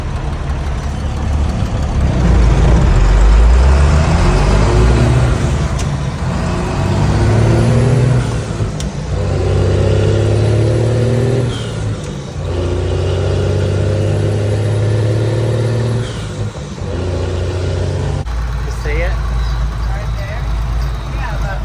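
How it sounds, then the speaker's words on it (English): Welder rig truck racing a Peterbilt truck outdoors, heavy diesel engines droning and revving loudly in long surges with gear-change dips, while people talk over the engine noise. "Welder rig versus Peterbilt right now."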